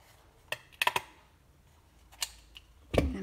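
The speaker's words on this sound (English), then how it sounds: "take your scissors and catch all of those layers" Scissors snip through stacked layers of paper in a few sharp, separate cuts, close and crisp, with a small clunk at the end; nobody speaks.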